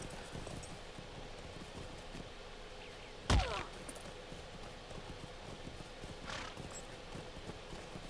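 Horse hooves clip-clop steadily in the fantasy online game Lord of the Rings Online as a mount is ridden, with a brief loud crunching impact midway and a faint whinny later, over quiet ambient game sound.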